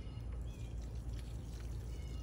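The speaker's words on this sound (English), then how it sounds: "You don't want to put too much water on them." Water pours steadily onto plants in a home vegetable garden, a soft continuous splashing trickle at low level, heard close and alone.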